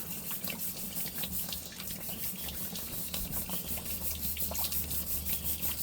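Agate rocks from the Polka Dot Agate Mine are scrubbed with soap under running water: a faint, steady rush of water with rhythmic brushing strokes, close and quiet.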